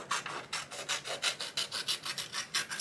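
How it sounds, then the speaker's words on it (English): Scissors or a blade trimming excess white sublimation paper from a mug wrap before pressing in a Qriket mug press, giving a series of close, quiet rasping snips in a steady rhythm of about a dozen cuts. "I'm just trimming off the excess white here"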